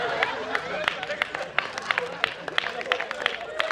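Audience applause and crowd noise at a Hindi comedy poetry show late at night, a dense patter of clapping with scattered sharper claps and a murmuring crowd throughout.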